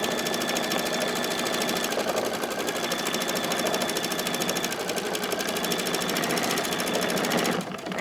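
An embroidery machine stitches an applique onto a tea towel, a steady, loud mechanical buzzing and rattling that runs without a break and then drops off abruptly near the end.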